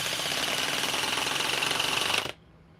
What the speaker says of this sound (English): I've never worked with a hydraulic impact driver